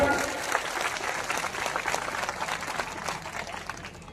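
A crowd claps steadily and loudly throughout at a statue unveiling of B. R. Ambedkar in Mau, dense applause that fades slightly toward the end.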